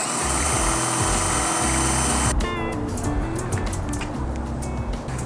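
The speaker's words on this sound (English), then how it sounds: "I'm going to take this 1" butterfly bit and I'm just going to make a flat spot on each side of the" A drill with a 1-inch butterfly bit bores into a wooden easel, a loud steady motor whine that shifts in pitch partway through as the bit bites into the wood.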